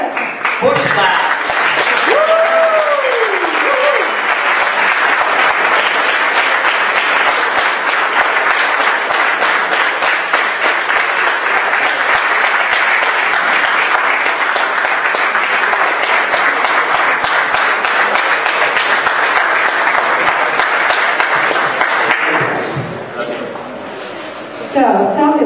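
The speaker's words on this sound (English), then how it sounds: "Round of applause for them." An audience at a startup competition applauding first place winners, loud sustained clapping for over twenty seconds before tapering off, with a brief voice near the start.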